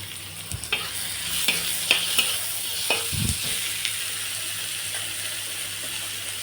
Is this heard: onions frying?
yes